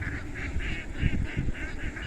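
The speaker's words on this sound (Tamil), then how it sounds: "அதான் வாத்து கூட்டம்னு சொல்லுவாங்க" Ducks quack steadily in a group, a continuous overlapping chorus of calls at moderate distance.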